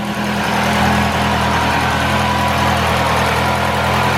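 A 1989 Nissan Silvia S13 with a CA18DET turbo engine, aftermarket cams and an S15 ball-bearing turbo, idling close by with a loud, steady, slightly lumpy drone and no talk over it.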